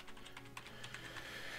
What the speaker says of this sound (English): You can just hear me frantically hitting every key.